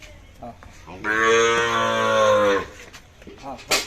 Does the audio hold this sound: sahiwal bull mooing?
yes